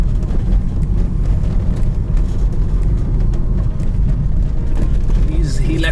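A 1986 Audi quattro with about 115,000 kilometres drives along the road, its engine droning loud and close under heavy, continuous road and wind roar.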